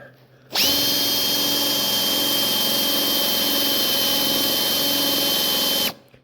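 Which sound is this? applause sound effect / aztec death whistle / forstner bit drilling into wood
forstner bit drilling into wood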